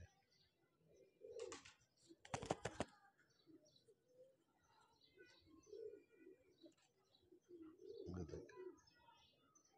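Breeder pigeons coo in low, repeated murmurs, with a few sharp bursts that may be wing flaps near the start. Someone talks briefly over them.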